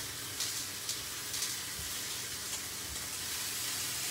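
Steak frying in a hot pan gives a steady low sizzle with faint crackles, and a few soft knocks come through near the start.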